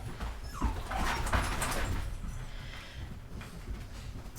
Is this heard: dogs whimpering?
yes